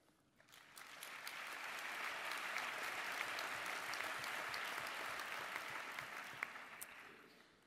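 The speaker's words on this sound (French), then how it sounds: "Pardon, allez-y, vous pouvez les applaudir." Audience at a medical conference opening plenary breaking into sustained applause, a dense clapping crowd that builds quickly, holds steady, then starts to thin out.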